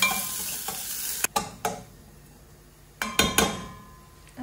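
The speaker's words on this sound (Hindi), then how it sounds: "इसमें डालना है ये बारीक कटा हुआ प्याज, इसको अच्छे से फ्राई करना है" Finely chopped onion frying in coconut oil, with a steady sizzle and a few sharp spoon scrapes and clinks against the pan as it is stirred, close and alone.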